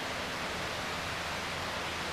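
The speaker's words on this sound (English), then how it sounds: "Okay, we're back to the Hughes River." Steady broadband rush of the Hughes River flowing somewhere ahead along a hiking trail in Shenandoah National Park, a faint, even wash of water with no voices over it.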